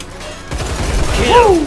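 Rapid burst of gunfire in the video game Line of Sight, a dense stuttering volley starting abruptly and continuing steadily, with a sweeping electronic tone layered on top near the end.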